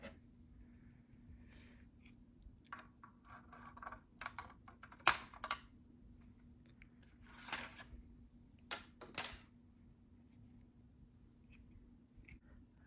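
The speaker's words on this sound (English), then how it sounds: "Now I just gotta go ahead and cut off these straps on here." Faint, sparse snips and small plastic clicks as straps are cut off a boxed Maisto 2016 Camaro 1/18 scale model car, scattered irregular bursts over a quiet background hum.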